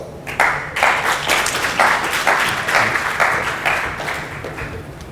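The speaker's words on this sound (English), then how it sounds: "Please welcome him with applause." Audience applause welcoming a speaker on stage at the PyCon APAC 2016 Python conference, a steady wash of clapping with a few brief dips, close and fairly loud throughout.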